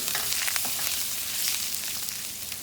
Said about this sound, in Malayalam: കുറച്ച് കടുക് കുറച്ച് ജീരകം കറിവേപ്പില ഗാർലിക് ഇഞ്ചി ചെറുതായിട്ട് അരിഞ്ഞത് ഇതൊക്കെ കൂട്ടിയിട്ട് വഴറ്റുക ആദ്യം